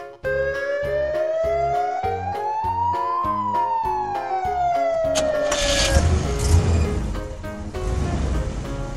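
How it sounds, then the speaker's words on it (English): An ambulance siren rises in one long slow glide, falls again, and fades near six seconds beneath a rush of noise, heard over background music and loud throughout. "White. Ambulance."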